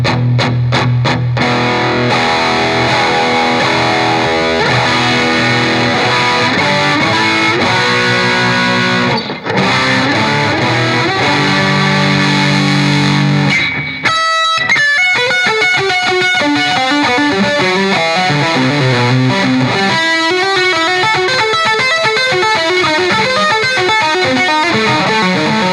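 Electric guitar played through a Victory MK overdrive with its resonance control being adjusted, a loud, sustained distorted tone with chords and riffs that shift into quicker picked note runs partway through, with no talking.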